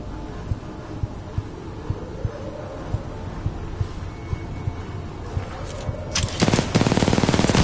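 Rapid automatic gunfire from Titanfall 2 crackles in a steady, evenly spaced series of sharp shots, then swells into a dense, loud burst of fire at the end.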